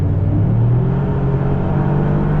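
A Toyota GR Yaris accelerates hard on the Nürburgring, its engine a steady loud in-car drone with rising whine and road rumble throughout, no talk.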